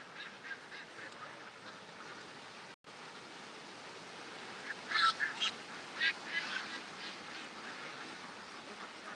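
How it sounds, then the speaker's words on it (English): Ducks and geese at a snowy year-round pond give scattered honks and quacks in the second half, fairly distant and soft over a steady noisy background. "I have ducks year round here."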